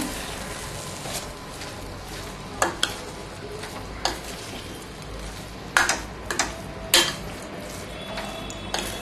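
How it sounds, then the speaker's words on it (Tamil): Mint rice being stirred in a pan, a soft background sizzle broken by sharp metallic scrapes and clinks of a ladle against the pan at irregular intervals, close and alone without speech. "நல்லா சாதத்தை கிளறி விடுங்க"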